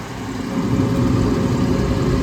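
An exhaust hood fan motor, rated for 10.4 amps and drawing 9.4, runs steadily at close range with a broad low rumble and whir that grows slightly louder before holding even.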